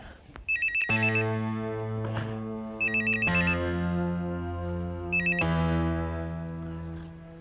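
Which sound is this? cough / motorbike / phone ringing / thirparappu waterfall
phone ringing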